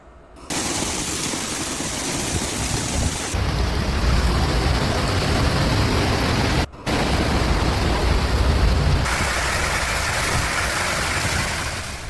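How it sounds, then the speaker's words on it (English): Torrential rain from a powerful thunderstorm in Bulgaria, a dense continuous roar of heavy downpour, loud and close, with a brief dropout partway through and no voices. "Powerful thunderstorms swept across Bulgaria, unleashing torrential rain, flash flooding, destructive winds, and hail"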